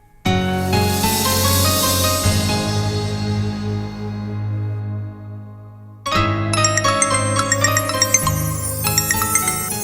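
A loud melodic ringtone plays on a phone while dad's number is being called, with sustained tonal chimes that stop briefly and then restart with a brighter jingling tune.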